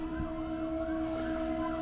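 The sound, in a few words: emergency vehicle siren on nearby road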